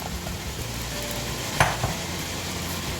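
Chicken and crushed jackfruit cutlet mixture stirred in a pan, a steady soft sizzle and scraping stir with one sharper clack of the spoon against the vessel, close and without speech.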